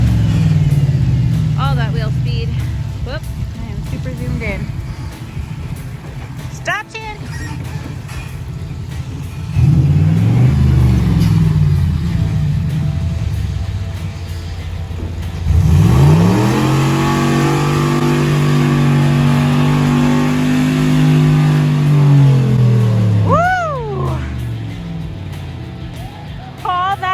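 Jeep Wrangler JKU engine revving hard while offroading on a ridge at Black Mountain, Harlan Kentucky, rising and falling in repeated bursts with wheel spin, close and loud, with people talking and exclaiming over it.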